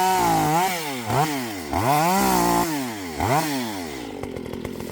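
A chainsaw makes pruning cuts on a large olive tree, its engine revving up and dropping in repeated swooping cycles, loud and close, settling to a rough idle at the end.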